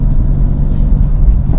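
Modified BMW M3 engine heard from inside the cabin while drifting, a loud, heavy low-end rumble and throttle roar filling the short burst, close and continuous with no speech.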